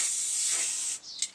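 A spray can nozzle is cleared in a garage with a sharp, loud hiss lasting about a second, then a brief second puff.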